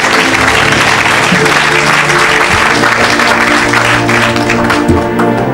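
A church congregation applauds and cheers at an evangelistic service, steady, loud, continuous clapping filling the room with crowd noise, while music plays underneath.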